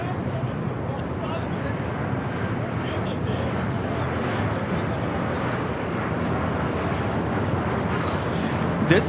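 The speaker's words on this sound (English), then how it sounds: "This arrival is Alaska Airlines 1050 coming in from Seattle on the 737-900" An Alaska Airlines Boeing 737-900 arriving from Seattle at LAX makes a steady broad jet-engine roar that holds loud throughout, with people talking over it.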